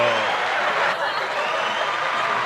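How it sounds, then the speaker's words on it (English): A crowd applauding loudly and steadily from start to finish, dense clapping with a few chuckles mixed in. "Massive applause for Sam going on a walk"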